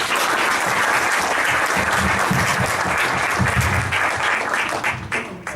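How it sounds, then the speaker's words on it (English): A room of entrepreneurs at a business forum applauds a presenter, a thick, continuous wash of clapping that holds steady and begins thinning near the end. "Can we clap for Paul?"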